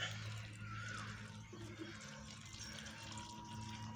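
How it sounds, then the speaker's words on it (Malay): Water is poured onto a plant's soil, giving a steady, soft trickling and splashing wash that continues evenly throughout, with no one talking. "terus siramkan dia dengan air supaya dia dapat"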